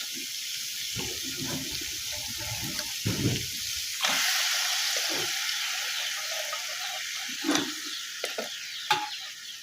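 Potatoes fry with spices in a village kitchen pan, giving a steady sizzle with scraping stir sounds and a few sharper clinks, close and alone.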